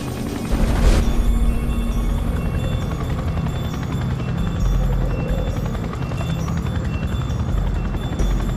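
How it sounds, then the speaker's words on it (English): A large military helicopter approaches a mountain summit, its rotor blades producing a steady, loud, continuous thudding roar with a heavy low rumble that holds throughout. "Al-Qaeda fighters hear the rotor blades of a large helicopter approaching."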